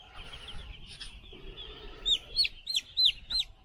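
Chickens on a poultry farm, a run of short, sharp chirping calls close by that come in quick succession after a quiet, low-level stretch.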